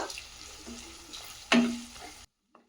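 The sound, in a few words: frying onions with dried red chillies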